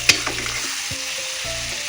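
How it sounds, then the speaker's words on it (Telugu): Raw mango chutney ingredients frying in oil give a continuous close sizzle, broken by a few soft stirring scrapes and taps, with no voices. "వేయించుతున్నాను అన్నమాట నూనెలో"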